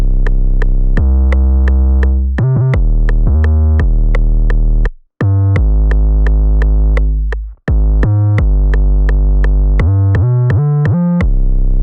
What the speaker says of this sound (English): I made a pretty simple 808 pattern